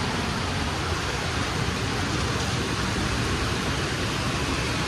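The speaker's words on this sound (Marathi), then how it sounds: "एवढा जोर धरलाय ना पावसाने" Heavy pre-monsoon rain on a motorbike ride along the Mumbai–Goa highway near Devrukh, a dense, steady broadband hiss of downpour and wind rushing without pause, loud and close throughout.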